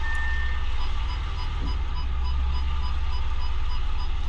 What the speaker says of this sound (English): Going to put it into reverse now.